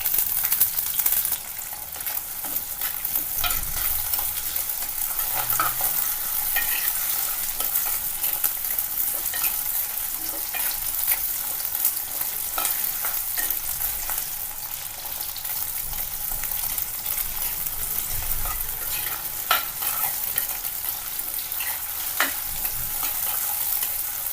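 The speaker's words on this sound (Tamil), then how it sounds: "பூண்டு வெங்காயமும் நல்லா வதங்கிருச்சு" Shallots and garlic sauté in oil with mustard seeds and fenugreek, a continuous soft sizzle broken by repeated scraping stirs of a spoon in the pan, close and unbroken by talk.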